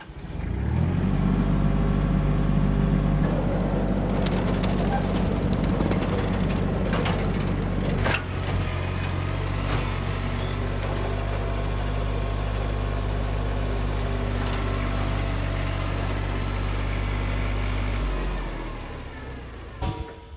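A tractor runs a reversed mower deck through rough shoreline vegetation at a pond, its engine a loud continuous drone with steady mechanical rattle that holds for most of the stretch before cutting off near the end.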